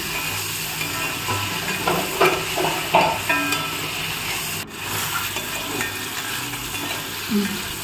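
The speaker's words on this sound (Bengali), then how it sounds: "জিরে গুঁড়ো দিয়ে দিলাম। তারপর একটু নেড়ে চেড়ে দেবো।" Cumin powder stirred into sizzling oil in a pan alongside salt, turmeric and chilli powder, a steady fry crackle with scraping strokes of a spatula, close and continuous with no talk.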